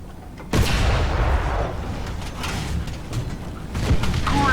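A tank cannon fires in World of Tanks and destroys an enemy tank: one heavy, loud blast that booms and rolls into a sustained rumble, followed by a second impact near the end.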